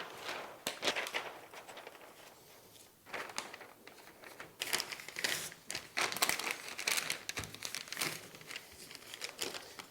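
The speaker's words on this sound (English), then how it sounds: "we're going to wrap the whole framed piece completely in brown paper" Brown paper crinkles and crumples close up as it is folded around a framed painting, with bursts of rustling and tearing-like crackles coming in uneven, busier handling toward the end.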